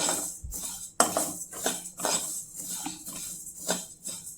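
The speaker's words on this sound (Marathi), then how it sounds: "कढई गरम झालेली आहे त्याच्यामध्ये टाकले आता हे तीळ भाजून घ्यायचे" Sesame seeds being dry-roasted in a hot kadhai, with a spatula clinking and scraping against the metal in irregular strokes over a soft, steady background hiss.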